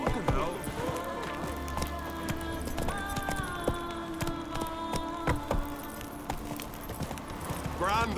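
Roach the horse galloping in the game Witcher 3, rapid rhythmic hoofbeats pounding close and steady throughout, with game music and other sounds layered over them.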